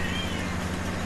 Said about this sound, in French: ça c'est mon chat, je vous présente mon chat